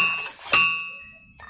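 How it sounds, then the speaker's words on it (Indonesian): A servo presses a bicycle bell, rigged as a homemade manual push-to-talk bell for a radio rig, giving one bright, close ding that rings on and slowly fades. "Jadi seperti kita memijit bel sepeda."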